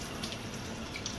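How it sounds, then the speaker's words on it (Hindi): A running kitchen tap pours steadily as produce is rinsed beneath it, a constant close hiss of water with faint splashes and no voices. "तो ये धो ले रहे पहले।"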